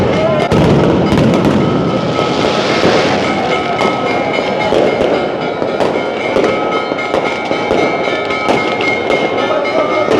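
Loud, dense fireworks crackle and pop continuously, bursts overlapping without pause over a busy background din, across Barsana during the Radharani birth festival.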